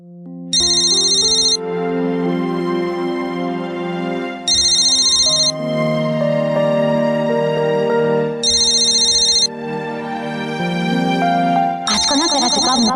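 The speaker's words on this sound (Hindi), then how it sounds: "किसका फोन है?" A telephone rings indoors in a home, its electronic ringtone repeating in four loud bursts at regular intervals over a sustained musical background.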